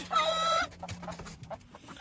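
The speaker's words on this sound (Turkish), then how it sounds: "Bunlar hemen girdi İran tavukları." Iranian chickens cluck in a short burst of close, harmonic calls, then scattered softer clucks and rustling follow.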